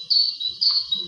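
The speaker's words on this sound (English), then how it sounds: "And then the higher urban song." Two short bursts of high, thin birdsong from an urban bird, a brief sustained phrase repeated twice in quick succession, clear against near silence.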